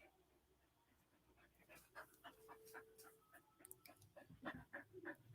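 A puppy pants softly and lets out faint whimpers, quiet and intermittent at first, then growing into quicker, louder breathy bursts near the end.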